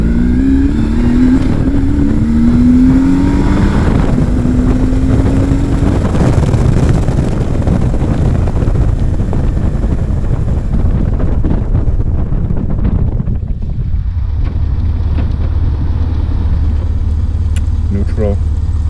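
A 2001 BMW R1150GS boxer-twin motorcycle runs at steady road speed under heavy wind buffeting. Engine pitch rises and falls through gear changes, then the bike eases off and settles to a lower drone.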